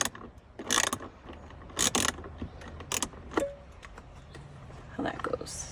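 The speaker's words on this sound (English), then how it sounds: "You're going to need an 8mm socket, an extension, and a ratchet." Ratchet with an 8mm socket and extension loosening screws on a Dodge Hellcat, giving short bursts of close, rapid pawl clicking separated by pauses, with faint clunks between them.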